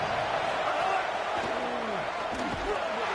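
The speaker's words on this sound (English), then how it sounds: "A 3rd and goal, and this defense feeling energy from the crowd." Stadium crowd in a college football video game on third and goal, a steady loud roar that fills the whole moment, with faint thumps and commentary-like voices underneath.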